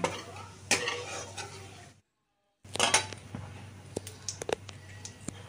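Whole cloves and white cumin being stirred in hot oil in a pan, with soft scraping and clinks of a spoon, a brief pause, then more stirring with sharp metallic taps and light sizzle.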